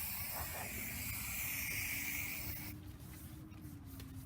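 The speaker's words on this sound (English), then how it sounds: "I will go ahead and spray paint a circle." A spray paint can hisses steadily for a few seconds while marking a circle on the ground outdoors, then cuts off abruptly, leaving quiet outdoor background.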